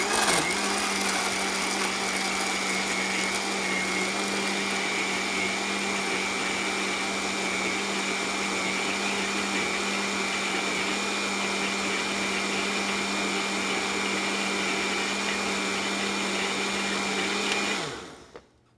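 A countertop blender runs on its smoothie setting, blending a green drink in one steady, loud, continuous whir that holds for about seventeen seconds and then winds down abruptly to a stop.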